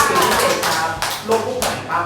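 A short burst of hand claps rings out close by in a school health class, a few sharp strikes mixed with a voice talking.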